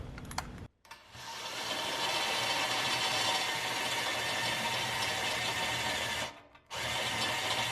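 A cordless drill bores a hole, running in a steady, loud, continuous whir for several seconds, with a short break near the start and another near the end.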